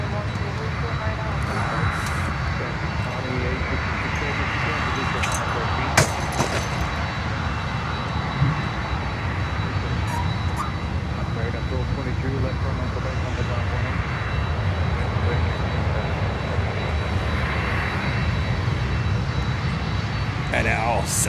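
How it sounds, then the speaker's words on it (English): A DHL Boeing 747 cargo jet landing on runway 12 at Miami gives a steady, broad engine roar that holds level throughout, with a faint voice in the background. "And now 747 DHL coming in here on runway 12"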